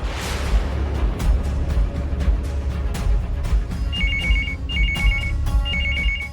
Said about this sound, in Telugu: ఫోన్ చూడెవరో.